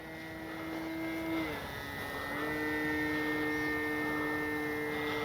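An E-flite Gee Bee R2 RC plane flies overhead, its electric motor a steady, thin whine that drops and then rises in pitch partway through, heard at moderate distance with no talk.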